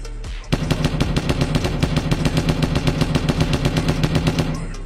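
A walking mech turret gun in Melon Sandbox fires one rapid, evenly spaced machine-gun burst of roughly thirty loud shots, near and unbroken, running for about four seconds with no talking over it.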